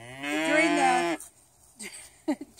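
Cattle on a farm with grassland and trees give one long, loud, close moo that trails off, followed by quieter shuffling and a few faint low sounds.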